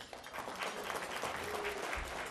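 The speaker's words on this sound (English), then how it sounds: "A round of applause for Haiti, ladies and gentlemen" A room full of people breaks into applause during an awards ceremony honoring Haiti, a dense, steady wash of clapping that holds at one even level across a short stretch.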